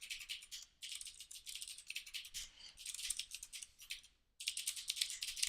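An administrator password being typed on a computer keyboard, a rapid close-up patter of key clicks in bursts with brief pauses between them, quiet and with no voices.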